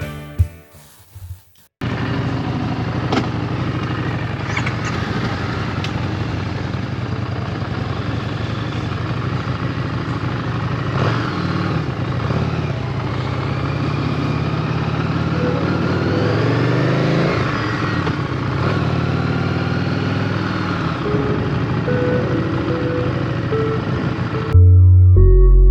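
A Harley-Davidson motorcycle rides along a Midwest road on a test ride, its engine droning steadily and rising in pitch as it accelerates. Wind rushes under the engine, and the ride stops abruptly near the end.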